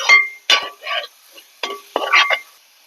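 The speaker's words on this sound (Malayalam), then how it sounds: "ഒന്ന് ഇളക്കി കൊടുക്കാം." Ground paste for egg theeyal curry is stirred in a pan with sauteed onions, a series of loud, short scraping strokes of a spoon against metal, about six bursts separated by brief silences.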